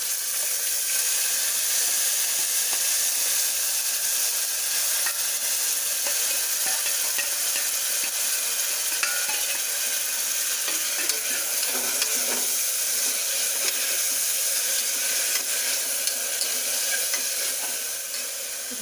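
Onion, tomato and cumin frying in a pan for moong masala rice, a dense, even crackling sizzle that holds steady for the whole stretch with faint stirring clicks underneath, close by and without voices.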